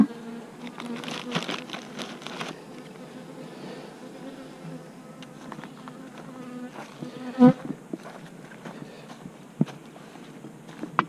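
Bees buzzing around an opened colony, a steady close-up drone with louder swells near the start, accompanied by occasional handling knocks and bumps.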